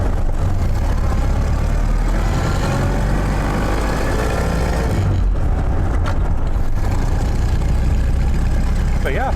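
Engine of a 1929 Ford Model A running steadily while driving, a continuous low rumble with no break across the whole stretch.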